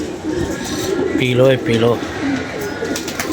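Pigeons with clipped wing feathers coo softly a couple of times in a loft, with background murmur and a voice speaking over them.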